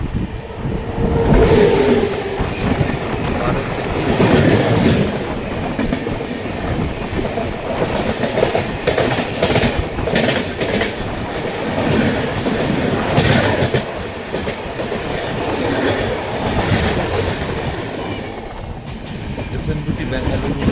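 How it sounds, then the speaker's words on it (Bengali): Chalapalli–Shalimar East Coast Express rumbles past at close range, a loud, continuous roar of wheels and carriages with rhythmic clatter over rail joints running the whole way through. "সামনে থেকে আসছে চাল্লাপল্লী শালিমার ইস্ট কোস্ট এক্সপ্রেস"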